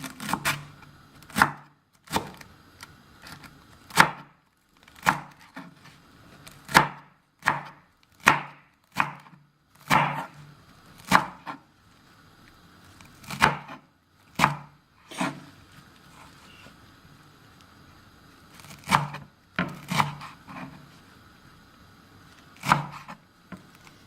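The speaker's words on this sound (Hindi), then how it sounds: "अब इधर मैं धनिया काट के रख देती हूँ" A knife chops coriander on a board in irregular bursts of sharp thuds, some quick runs and some lone strikes, with short pauses between, close up and alone.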